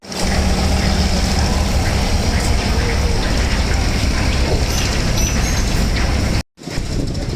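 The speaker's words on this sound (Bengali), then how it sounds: "আমাদের লঞ্চটি এখন ছেড়ে দিল।" A passenger launch's engine drones loudly and steadily as the boat pulls away on a river run toward Chandpur, a dense low rumble with wind and water wash layered over it, cut by a brief dropout near the end.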